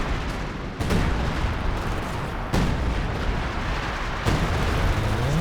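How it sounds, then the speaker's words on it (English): An artillery barrage lands in the WWII strategy game Company of Heroes 2, with three heavy, sharp blasts spaced roughly two seconds apart, each followed by a rumbling tail over a constant battlefield din. "Artillery being dropped on the pack. Taking a while to come down."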